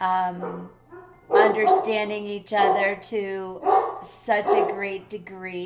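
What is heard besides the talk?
dogs barking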